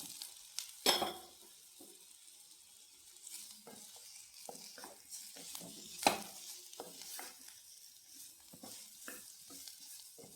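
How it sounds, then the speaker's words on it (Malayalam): Sweet potato pieces stir-fried in a pan with chilli flakes for a masala: a soft, steady sizzle runs throughout, broken by spatula scrapes and clinks against the pan, with a sharp knock near the start and another midway. "ഇനി നമ്മുടെ മധുരക്കിഴങ്ങ് ഇട്ട് കൊടുക്കാം"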